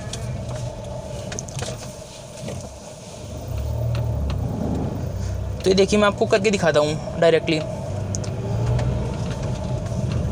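A car engine hums and revs while driving in a low gear on a road, with someone talking over it throughout and a brief burst of louder, uneven engine or road noise midway.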